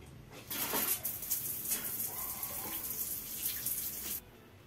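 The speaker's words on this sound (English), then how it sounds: "I take a shower." Steady broadband rush of running water from a shower, starting abruptly and pouring evenly for several seconds before cutting off, with faint bird chirps in the background.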